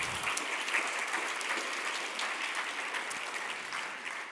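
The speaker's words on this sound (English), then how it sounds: "give her a round of applause, please" Audience applause for a woman coming up during a missionary trip interview, steady clapping from a modest crowd at a moderate, slightly distant level.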